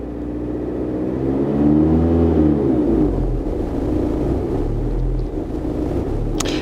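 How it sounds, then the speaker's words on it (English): A car engine revs up when the gas pedal is pressed, a close, steady rumbling drone that swells and falls back to idle, then holds a low hum with no talking. "Now I'm pressing the gas pedal to see the live data."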